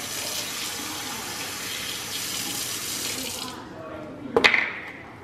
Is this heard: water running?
yes